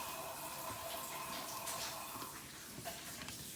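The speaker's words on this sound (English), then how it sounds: "Gotta wash my hands." Tap water running steadily into a sink during handwashing at home, a faint continuous splashing hiss with no voices over it.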